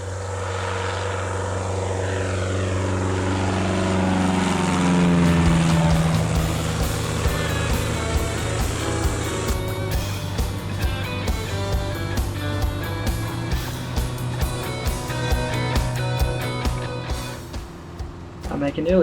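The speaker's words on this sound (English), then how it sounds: "After a lovely swim, it's time to hop back in the aircraft. This time I'm going to be doing a quick circuit." Piper Super Cub light aircraft taking off from a rough grass strip at Awaroa, its propeller engine droning steadily and rising in pitch as power builds, loud and close throughout.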